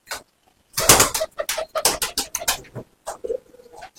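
Rampuri pigeons coo up close, with a run of soft, throaty bursts in quick irregular succession followed by a few fainter calls, and no talk over them.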